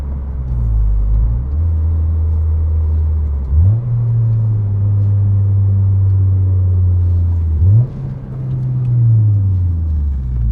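The exhaust of a 9th-generation Honda Civic Si fitted with a Yonaka system gives a loud, deep rumble from the cabin, with two quick rev blips as it downshifts, the pitch jumping up each time before settling into a steady drone.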